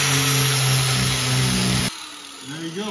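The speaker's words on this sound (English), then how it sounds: "Grind it smooth." A power grinder smooths freshly welded patch-panel holes on a 1974 Ford Ranchero, a loud high-pitched whine that runs steadily and then drops away sharply, leaving quieter noise.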